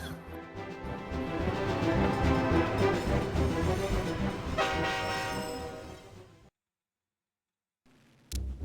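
Train sounds from the menu of the 3D Ultra Lionel Train Town Deluxe game: a loud, continuous rolling rumble with a horn-like tonal layer for about six seconds, then silence before a sudden loud burst returns at the end.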